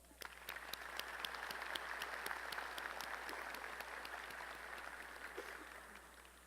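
A commencement audience at a College of Engineering ceremony gives steady, even applause from many hands, filling the hall at moderate distance.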